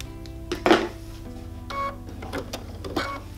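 A domestic sewing machine doing free-motion appliqué stitching, pivoting after every stitch around a tiny eye, sounds as short mechanical whirring bursts with pauses between them. The sound is close and fairly quiet, with no talk.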